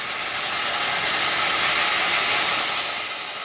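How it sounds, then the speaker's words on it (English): The Union Pacific Big Boy steam locomotive releases steam, a loud broad hiss that swells and then eases slightly, with a faint low rumble underneath. "With a puff of steam, the Big Boy began to move backwards."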